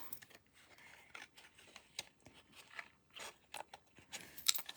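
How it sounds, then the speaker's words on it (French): Scissors snip and crunch through a paper bag in short, irregular cuts, faint and close, with rustling between strokes and a sharper burst near the end. "Je peux m'aider avec mes ciseaux."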